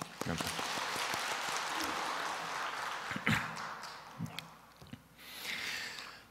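A congregation claps in praise during a Korean church worship service, a soft, steady wash of applause heard from a distance, with a few sharper nearby claps.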